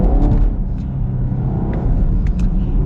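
A new Chevy Camaro SS 1LE with a manual gearbox accelerates at full throttle, a deep, loud engine rumble heard close from inside, with brief higher tire-chirp or squeal sounds mixed in.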